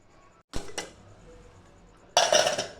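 A metal pressure cooker lid being fitted makes a sharp clank, then a short pause, then a louder burst of rattling, scraping metal, close up.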